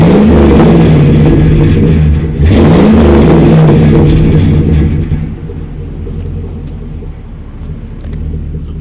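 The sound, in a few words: Chevy Avalanche Flowmaster 50 series dual exhaust revving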